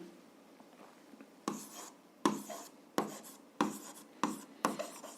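Pen writing by hand in a school notebook during an algebra lesson, a series of six short scratchy strokes in quick bursts, close and fairly quiet, with no talking.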